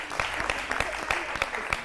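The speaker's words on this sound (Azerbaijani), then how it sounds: "Sizi elə alqışla da yola salırıq" A television talk show studio audience claps a guest off, with a short burst of rhythmic, fairly close applause made of distinct, evenly spaced claps.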